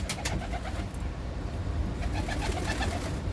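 Pigeons cooing in a low, continuous murmur, several birds close together inside a coop, with soft rustling and no talking.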